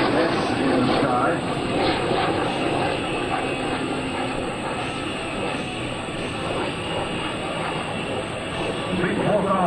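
An aerobatic airplane at the 2003 NAS/JRB Willow Grove Air Fest drones steadily through a big loop, its engine a continuous distant roar while a commentator talks over it.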